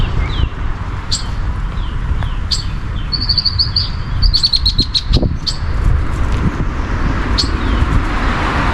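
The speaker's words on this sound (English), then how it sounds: "We have been hearing the bird chirping" A wild bird near a nest in a spring tree chirps in short, bright repeated calls, some in quick trilled runs, over a steady low outdoor rumble.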